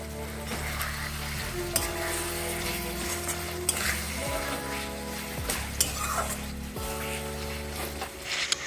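Capsicum and green chilies stir-fry in a pan for a rohu fish curry, with a steady sizzle, a spoon scraping and occasional sharp clinks over a tonal music bed.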